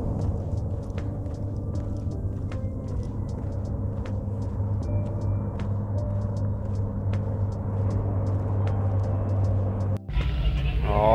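A 2023 Subaru WRX engine drones steadily at autocross, a low constant rumble heard from inside the car, ending in a brief break and a burst of louder mechanical noise.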